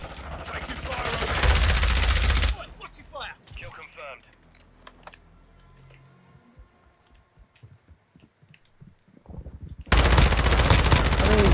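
Automatic gunfire in Call of Duty Modern Warfare 2 multiplayer, loud dense bursts at the start and end framing quieter game sounds, scattered clicks and someone talking in between.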